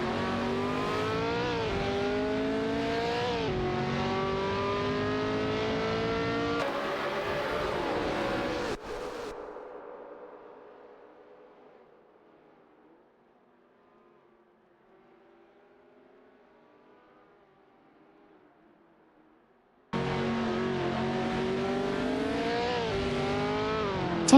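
Racing video game engines, a Legrand Mach 11 and a McLaren 10A dueling on track, with loud rising and falling engine whines. The sound fades almost to silence midway, then abruptly returns at full volume.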